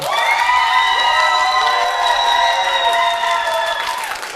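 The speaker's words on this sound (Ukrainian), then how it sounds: "зараз оплески собі дарує стіл номер один" Wedding guests at table one applaud and cheer together, a dense sustained wash of clapping with shouts and whoops, loud and continuous throughout.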